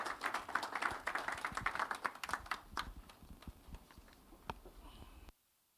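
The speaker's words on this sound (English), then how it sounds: "A round of applause for Mr." Audience applause at a business incubator managers' workshop in Ghana, a burst of scattered hand claps from a modest crowd that thins to a few isolated claps before stopping abruptly.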